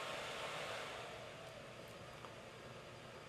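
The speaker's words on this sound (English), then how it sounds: "The fan runs high while the camera's in idle mode" Cooling fan on a RED Scarlet camera running at high speed while idle, a steady close broadband whoosh that holds constant and eases slightly in level partway through, with no voices.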